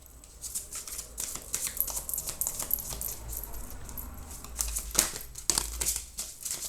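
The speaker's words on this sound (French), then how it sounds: "Je vais tirer donc les cartes et puis prenez que ce qui vous parle et puis le reste vous le laissez, d'accord? Donc allez, c'est parti, je bats les cartes." Tarot cards being shuffled by hand, a close, irregular run of soft slaps, riffles and papery flicks with brief louder snaps, no voices.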